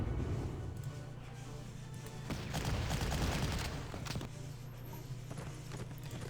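Bombs and gunfire strike a cavalry unit in the Panzer Corps war game, a burst of explosive cracks and rumbling booms over a low steady hum, with clattering hoof-like thuds mixed in.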